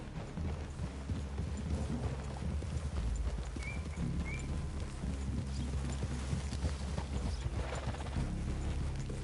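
Horses' hooves clip-clop steadily across ground in the video game Red Dead Redemption 2, soft and fairly close, with faint mechanical clinks and a brief whinny-like tone mixed in.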